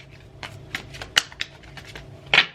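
Tarot cards being shuffled by hand, soft quick riffling bursts and flicks spread across a few seconds, close and fairly quiet, with the loudest flurry near the end.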